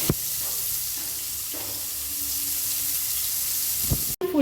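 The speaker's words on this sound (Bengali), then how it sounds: "আর এদিকে মাছ ভাজছি" Fish frying in a pan for a Bengali meal. A steady, fairly loud hiss of hot oil runs throughout, with a few short clatters near the end and no voices.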